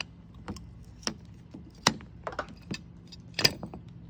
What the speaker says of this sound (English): It's a tube cutter. It's got that nice blade on it. Cuts down into there.